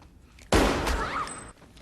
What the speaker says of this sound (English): Cotton shoots Mrs. Loomis